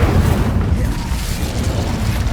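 An Incendio fire spell goes off in Hogwarts Legacy as a deep, rumbling burst of flame, a dense low roar filling a couple of seconds with no clear break.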